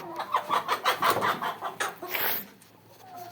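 A flock of about 200 backyard chickens clucks steadily on a rainy day, close and fairly loud, with repeated rhythmic clucks and a brief louder squawk near the end.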